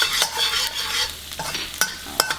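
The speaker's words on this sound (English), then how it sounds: "I put the 4 cloves of garlic that I already chopped" Chopped garlic sizzles in hot oil while a utensil stirs it. The soft frying hiss is broken by a few sharp scrapes and taps against the pan, close and moderately quiet, with no voices.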